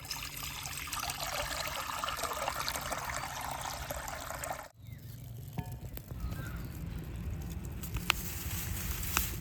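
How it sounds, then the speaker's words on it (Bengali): Half a litre of plain water is poured into a wok for homemade vinegar, a steady close splashing rush that breaks off briefly midway, then carries on as a running trickle. "এই কড়ার মধ্যে আমি হাফ লিটার জল দিয়ে দেবো"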